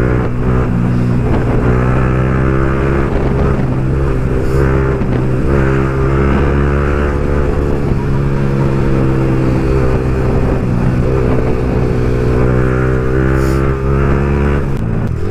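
Old Rolls-Royce engine droning and revving loudly and steadily for about fifteen seconds, heard close from inside or beside the moving car; distinct exhaust backfire pops are not clearly picked out.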